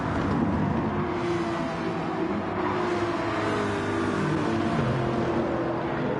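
A Porsche race car roars through a PlayStation racing game endurance race at Monza, its engine a loud, steady drone held throughout with no pauses and no talk.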